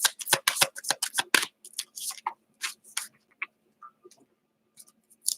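Oracle cards being shuffled by hand: a rapid run of loud, close riffling snaps that thins into sparse, softer card flicks and taps toward the end, with no talking.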